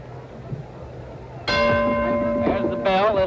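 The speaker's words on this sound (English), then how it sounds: "There's the bell." A boxing ring bell clangs to end the round in a world heavyweight title fight, a loud ringing metallic strike followed by a second clang, its tone sustaining over crowd noise and commentary.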